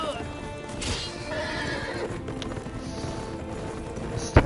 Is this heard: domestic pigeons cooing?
no